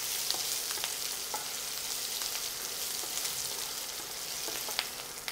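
Sesame chutney ingredients cook slowly in a pan over low heat, giving a soft, steady sizzle and faint crackle with a few brief pops scattered throughout, and no voices.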